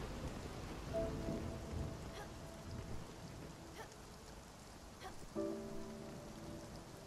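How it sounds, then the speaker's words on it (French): Steady rain and a thunderstorm in the Spiritfarer video game: a constant hiss of rainfall with faint, distant thunder rumbles, layered under soft tonal game music, with no voices. "Ah, il commence à pleuvoir."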